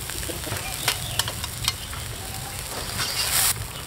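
Crucian carp dropped into boiling sauerkraut soup in a farmhouse kitchen, a steady loud bubbling sizzle throughout with a few brief splashy clicks and a louder surge of hissing toward the end.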